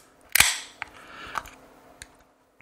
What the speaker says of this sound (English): Yep, that is a beer that I am opening